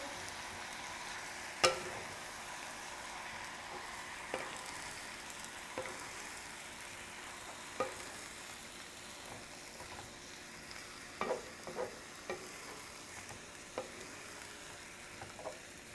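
General Tso chicken with vegetables being stir-fried and tossed together in a hot pan, a soft, steady sizzle with scattered light clicks and scrapes of a spatula, fairly quiet and without voices.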